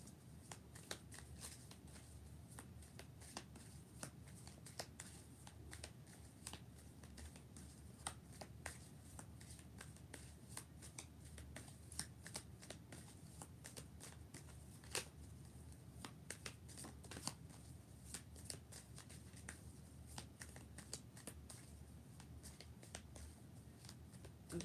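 Tarot cards are shuffled steadily for a long stretch, a continuous papery riffle dotted with sharp snaps and flicks, close and fairly quiet, with no voice over it.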